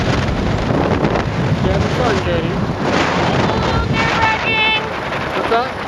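Steady, loud wind buffeting on the microphone while riding a motorbike on a road in Mae Hong Son, Thailand, a constant rush with a person speaking briefly over it.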